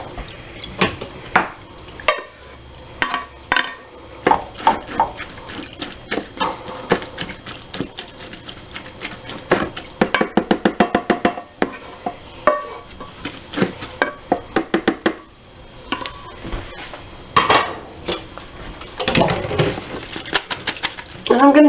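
Canned meat being drained in a home kitchen, giving irregular patters, light clinks and metallic scrapes of can and utensils against dishes, in short bursts with pauses, fairly close.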